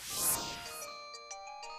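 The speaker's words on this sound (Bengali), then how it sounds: "রিং হচ্ছে" A telephone rings in a cartoon with a bright electronic ringtone: steady tonal chimes with a few short repeated pulses toward the end, clear and alone with no talking.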